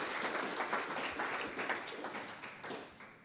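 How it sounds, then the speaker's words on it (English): Conference listeners at an expanded animation event give a speaker a short burst of applause, a fairly quiet, uniform patter of clapping across a few seconds. "a big round of applause for Rebecca once again"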